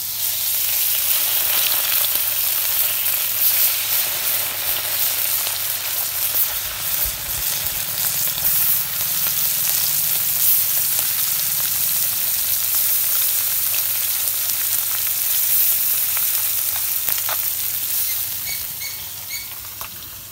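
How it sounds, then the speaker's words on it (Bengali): Fresh river rohu fish fry in hot mustard oil in a wok with a steady, dense sizzle and fine crackling patter. It runs continuously for about twenty seconds, easing slightly near the end, with no talk. "তেল গরম হচ্ছে, এখন আমি মাছগুলা ভাজে নেব।"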